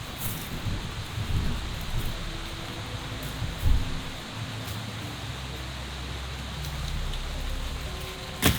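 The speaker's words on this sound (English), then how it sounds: "It's raining." Monsoon rain pours on an island at night, a dense, steady hiss of heavy rainfall with wind gusting and occasional low rumbles, continuous and enveloping without talk.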